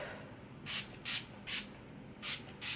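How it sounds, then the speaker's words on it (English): Wet n Wild Photo Focus setting spray misted onto a face, five short hissing pumps in an even rhythm, close and fairly quiet with no talking. "I am gonna go in with the Wet n Wild Photo Focus Spray."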